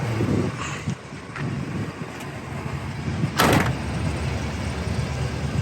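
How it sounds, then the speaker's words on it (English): The doors of a 1977 Chevy Monte Carlo opening and shutting, with soft thuds and clunks and one sharper latch slam partway through, heard close over steady wind noise. "Doors open and close good."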